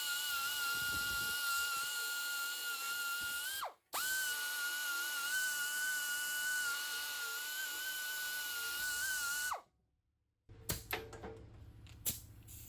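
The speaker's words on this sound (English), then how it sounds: "I'll use my pneumatic belt sander here to clean up the edges, get rid of some of that dross." Pneumatic belt sander grinding down the edges and dross of a steel weld on a grinder coolant sump, a steady high whine running in two long passes, with a short pause between them and a clattering tail afterward.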